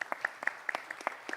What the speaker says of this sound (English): please welcome our moderator with a big round of applause